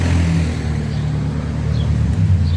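A heavy truck engine rumbles loudly nearby in Mazatlan, Mexico, its low drone shifting as the truck passes.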